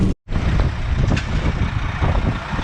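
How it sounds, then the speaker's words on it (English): A grab lorry driving in the rain, heard from inside the cab as a loud, steady engine rumble and road noise, briefly cut near the start, with no talking. "So we're now in Julio's grab lorry, driving, and we're on our way."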